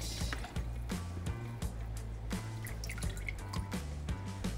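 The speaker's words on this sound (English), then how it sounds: "we are going to strain it for a second time if you want all the food to be out" Ginger drink liquid drips steadily while being strained a second time, a series of small, close drops and splashes falling at an irregular rhythm over a low background hum.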